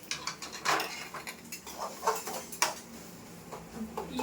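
A metal ladle stirring food in a cooking pot, with irregular close scraping and clinking strokes against the pot's sides.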